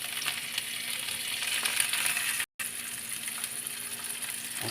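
Onions and tomato sautéing in a pan for sotanghon, a dense continuous sizzle with faint stirring, close and moderate, broken by one split-second gap of silence.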